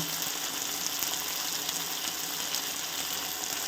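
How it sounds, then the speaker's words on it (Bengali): Spices such as salt, coriander powder and chilli powder fry in a pan for labra, a Bengali mixed-vegetable dish, giving a steady, dense sizzle that stays loud and even throughout with no talking. "এবার আমি ভালো করে মশলাটাকে আবারও কষিয়ে নেব"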